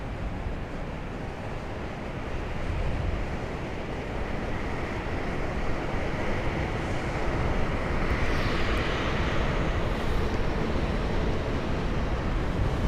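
A Delta Boeing 737 airliner on the runway at Raleigh-Durham International, its jet engines giving a steady, broad roar that swells slightly over the whole stretch, heard alone with no talk.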